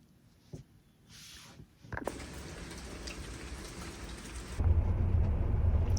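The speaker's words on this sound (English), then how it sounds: "It's a Tuesday, a very rainy Tuesday in Bucharest." Rain pours steadily on a very rainy day in Bucharest, with rumbling thunder building beneath it and the downpour swelling louder toward the end, heard up close with no talking.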